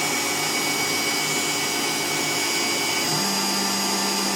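A workshop CNC machine spindle runs with a steady, loud broadband whir as it feeds down to its first depth of cut, with a lower hum joining near the end.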